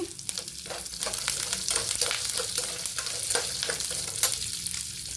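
Curry leaves and roasted peanuts crackle and sizzle in a hot pan, with fine frying hiss and occasional stirring scrapes, close and steady throughout.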